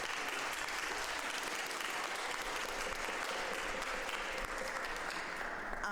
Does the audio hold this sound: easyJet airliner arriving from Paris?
no